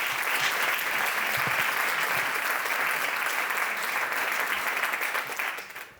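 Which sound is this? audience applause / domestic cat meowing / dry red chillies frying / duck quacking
audience applause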